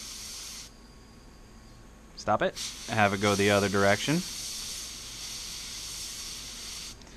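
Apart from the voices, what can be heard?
compressed air spraying through a part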